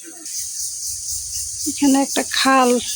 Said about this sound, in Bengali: হাই রে, ঝিঝি পোকার ডাক